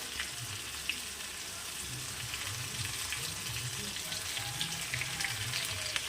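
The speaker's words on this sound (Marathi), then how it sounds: "आता याला थोडंसं असं परतून घ्यायचं आणि वांगे सोडायचे यामध्ये तेलामध्ये" Stuffed brinjals frying in hot oil in a pan, a steady, close, continuous sizzle with crackling throughout and no talking.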